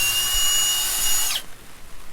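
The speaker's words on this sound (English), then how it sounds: "Die grinder." A die grinder carves wood for a chainsaw-carved snowman, whirring steadily at close range before cutting off and winding down with a falling whine.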